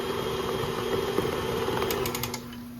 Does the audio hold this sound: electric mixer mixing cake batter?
yes